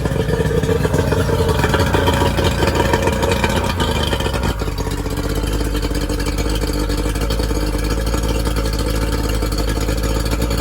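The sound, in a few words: Yamaha 40 HP two-stroke outboard engine idling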